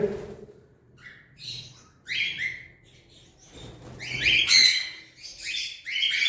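Several pet cockatiels chirp and tweet in quick bursts, with overlapping high calls growing busier toward the end, close by and fairly clear.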